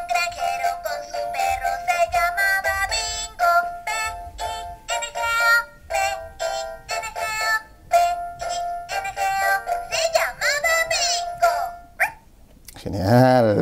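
A Fisher-Price Laugh & Learn musical toy dog plays electronic tones and a chirpy recorded voice in a busy, close, loud run of beeps and melody, ending with a higher sliding sound.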